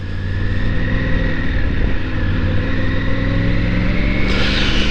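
A loud, steady Tiger 900 three-cylinder motorcycle engine drone from close to the exhaust, holding a constant throbbing tone with a slight rise near the end.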